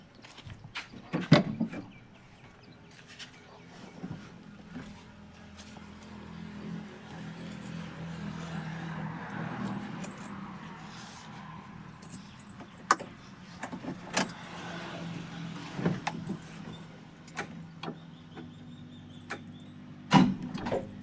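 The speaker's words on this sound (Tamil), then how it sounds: "வண்டி ஸ்டார்ட் பண்ணி காட்டுறேன் பாருங்கண்ணா" Keys rattle near the ignition, then a 2007 Maruti Omni MPFI petrol van starts and settles into a low, steady idle hum, broken by a few sharp clicks and knocks close by.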